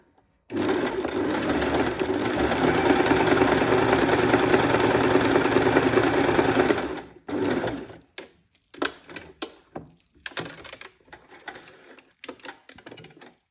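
A sewing machine runs a zigzag stitch around a hessian edge in one steady, fast whirring run of about six seconds. It stops, then gives several short start-stop bursts.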